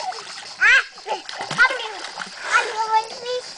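A hook toy is thrown into water with a few short splashes, heard close and mixed with a voice talking and exclaiming over them.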